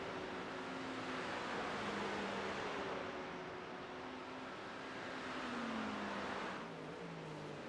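Porsche race cars racing at Virginia International Raceway, heard as a steady distant engine drone with gradual pitch sweeps as the cars shift and pass, fairly faint against a wide wash of noise.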